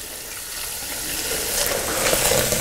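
A homemade vinegar mixture for fighting plant fungus fizzes and bubbles vigorously, a steady close hiss rising in intensity over a couple of seconds, with no talking.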